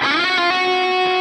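A distorted electric guitar sustains a single sliding note that lands sloppily off pitch, from a solo. It is short, loud and alone.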